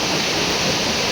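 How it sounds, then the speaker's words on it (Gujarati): Floodwater pours into an office during heavy rain, a dense, steady rushing wash like a small waterfall, loud and unbroken with no voices. "અમારા ઓફિસની અંદર પણ પાણી ઘૂસી ગયેલું છે"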